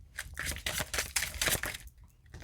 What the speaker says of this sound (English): let me shuffle again, because I barely shuffle